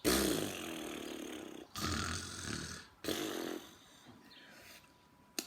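A voice imitates heavy snoring, with long rumbling, wobbling breaths in three or four bursts separated by short gaps.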